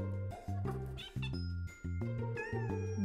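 A cartoon kitten stuck up a tree gives several short, bright meows mixed with chiming musical notes, in a quick, lively sequence.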